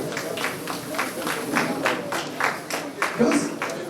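Clapping from an audience at the NUDGOSA 2021 annual general meeting: a steady round of hand claps, moderately loud and close, over a room murmur.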